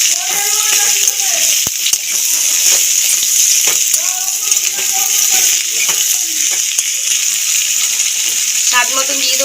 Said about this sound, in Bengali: দিয়ে দেবো কোচানো রসুন, পেঁয়াজ, নেড়ে ছেড়ে ভাজতে থাকবো।